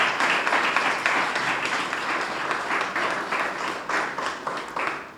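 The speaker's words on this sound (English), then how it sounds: "Let's applaud her." An audience claps for several seconds, a dense, steady wash of applause with slight swells that tapers only a little toward the end.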